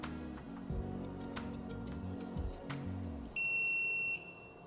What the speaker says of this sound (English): when all the oxygen is out, we should hear a beep and a firm light